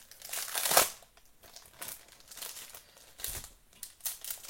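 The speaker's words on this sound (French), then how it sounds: "C'est du bruit, hein, les papiers." Paper crinkles and rustles in bursts, one loud crumple followed by softer intermittent shuffling and handling close by.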